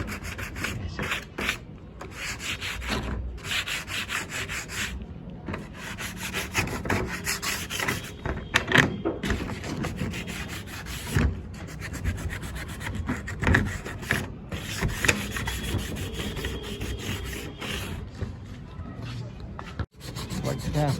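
Putty being sanded by hand, with a steady, continuous rasping rub of abrasive across a wooden surface, near and fairly loud, almost without a break.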